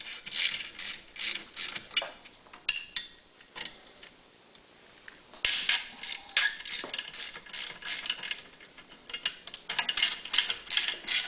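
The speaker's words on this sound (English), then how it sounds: "now we're going to go back and remove the two 8mm bolts" Bolts being removed from the stator of a Honda EV6010 generator, with a ratchet clicking in rapid runs of ticks, close and fairly loud, pausing briefly between bursts.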